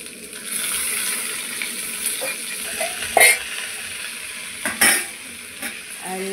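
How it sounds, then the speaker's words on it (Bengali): Papaya pieces and mixed vegetables, including raw plantain, fry in a pan for khichuri, with a steady sizzle broken by a few louder utensil scrapes and stirs; no one speaks. "পেঁপেগুলো দিয়ে আর একটু ভেজে নেব"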